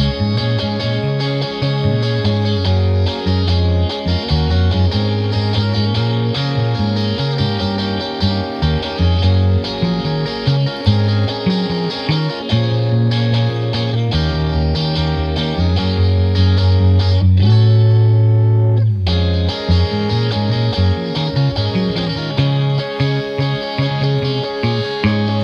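Distorted rhythm guitar and bass from an indie-pop song drive a loud, steady full-band groove for about 25 seconds, with a short drop near the end before it picks back up.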